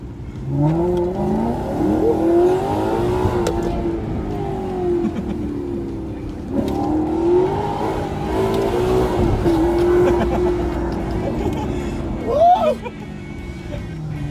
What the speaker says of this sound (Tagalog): Ferrari machine ang makina nito.